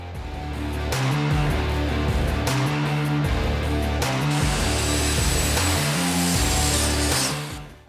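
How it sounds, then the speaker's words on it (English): Miter saw cutting pine boards, a loud steady whine with the blade spinning up and dropping repeatedly as several cuts are made, ending as the motor winds down. "we're going to use a miter saw to chop up our pine"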